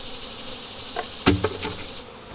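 Honeybees being shaken down into a new hive give a steady, close buzzing drone, broken by a few sharp knocks of the frame against the wooden box, with no talking.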